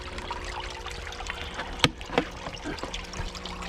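Water from a 12-gallon filter box on a small garden pond overflows and trickles back into the pond. The trickling is soft and steady, with a few faint splashes and clicks.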